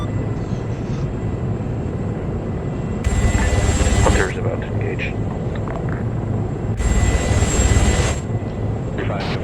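Apache helicopter rotor and engine drone in a first-person military raid game, a steady low rumble throughout that swells louder twice as it passes close, with someone speaking over it in radio-style voice chat.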